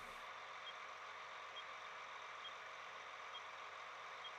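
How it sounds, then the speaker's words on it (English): A faint, regular electronic beep from a John Deere W200 Series mower in Farming Simulator 19 repeats about once a second over a constant droning hum, with no voices. "Just kind of a nice, subtle beeping noise in the background."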